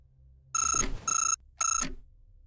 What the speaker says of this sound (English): I wonder how loud the alarm is and if it attracts nearby zombies